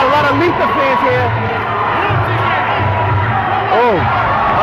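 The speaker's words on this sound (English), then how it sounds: "As you can hear the crowd, we got a lot of Lita fans here." A crowd at a live regional fight event roars and cheers continuously, with scattered whoops and shouts rising out of the hubbub, close and loud.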